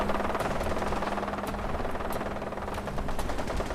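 Rapid automatic gunfire in Fallout 4, a dense rattling burst of shots with sharp cracks over a low rumble, steady and fairly loud throughout.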